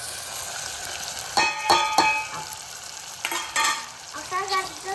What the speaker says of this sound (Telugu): నెక్స్ట్ బాయిల్ చేసిన మటన్ లెగ్స్ వేసుకుందాం